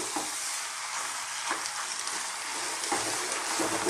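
Cooked pasta tossed through cream sauce in a pan over high heat, with mushroom and sweetcorn: a continuous bright, bubbling sizzle with soft, periodic stirring scrapes, close and even throughout.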